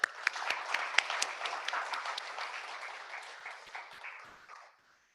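A crowd claps in a loud, dense round of applause that holds steady, then thins and fades to silence near the end.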